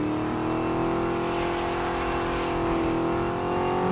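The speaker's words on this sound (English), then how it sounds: "this Mustang is a big, unwieldy, heavy car." A Ford Mustang in a racing video game revs steadily, its engine note holding a loud, sustained drone throughout with no talk.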